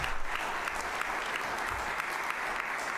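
A church crowd claps for a pastor at a revival-style rally, steady dense applause filling the space for a few seconds without letup.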